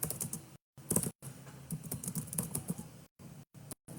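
Computer keyboard typing in a quiet room, a run of irregular key clicks in short bursts with brief pauses between them, fairly close and alone.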